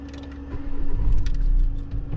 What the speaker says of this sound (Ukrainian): Заводимо бричку.